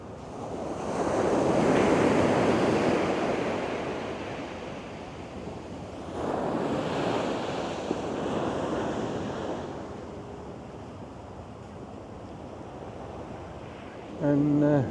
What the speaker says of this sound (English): Beautiful place. Baker Beach, San Francisco,